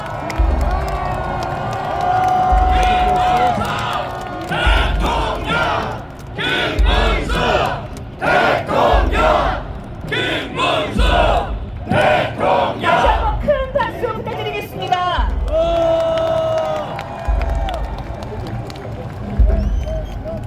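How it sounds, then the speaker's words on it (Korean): Crowd at a presidential campaign rally in the plaza in front of city hall chanting and cheering in rhythmic bursts, loud and close, over a steady pulsing beat with repeated shouted calls. "시민 여러분 큰 박수와 감성으로 우리 김문수 후보에 함께해 주십시오."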